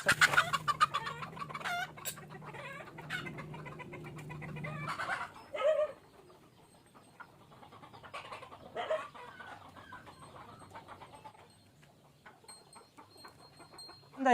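Siruvidai native hens on a poultry farm of about five hundred birds cluck and call in nearby, moderately loud bursts, with quieter stretches between them.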